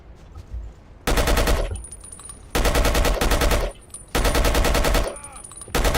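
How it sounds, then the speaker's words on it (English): Long bursts of rapid machine-gun fire in the video game Battlefield Yugoslavia rattle out in three sustained volleys with a short trailing burst, loud and close, separated by quieter gaps of distant game ambience. "firing our machine gun at them without even bothering to aim"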